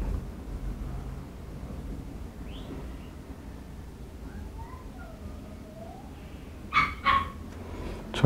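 Dogs yip and whimper faintly in the background of an indoor painting session, followed near the end by a couple of louder, sharper barks close by.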